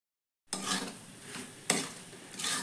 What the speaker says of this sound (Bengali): ততক্ষণ আমি একইভাবে খুন্তিটা নাড়ব।